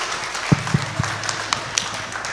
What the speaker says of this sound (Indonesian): Kasih tepuk tangan dulu untuk Ananda Yazid.